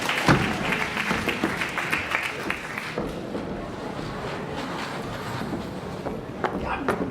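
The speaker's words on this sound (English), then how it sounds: "A good applause. Applause." Applause from a theatre audience during a stage play, a dense continuous patter of many hands that stays steady and fairly loud across the whole stretch, with no voices on top.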